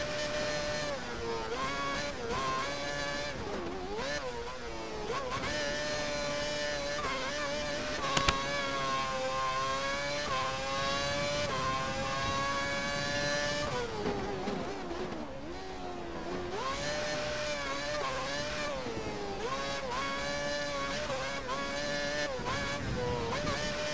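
2011 Formula One car engines whine at high pitch, rising and falling through gear changes as cars pass on an uphill straight at the Chinese Grand Prix, loud and continuous throughout.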